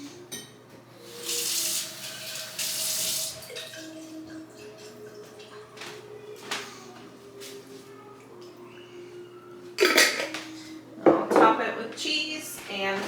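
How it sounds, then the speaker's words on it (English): A short burst of tap water hisses into a nearly empty pasta sauce jar for a couple of seconds, then glass and kitchenware clink and knock sporadically nearby, with quiet sounds of kitchen work between. "Add a little water to get the rest out."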